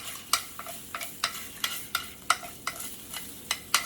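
Eggs frying in a hot pan: a soft sizzle under repeated, evenly spaced scraping and stirring strokes from a utensil, close and fairly quiet, no voices.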